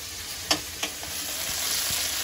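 Okra frying with whole green chillies in a pan, a steady close sizzle with a couple of sharp pops or spatula taps early on.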